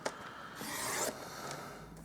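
A paper trimmer blade slides through card stock, taking a quarter inch off a 4 1/4 by 5 1/2 inch card base, making one short, soft raspy swipe with faint handling noise around it.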